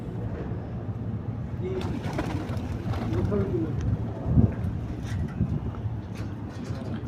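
Pigeons cooing nearby, soft low coos rising over a steady rumble of wind and background noise, with a few faint knocks and rustles.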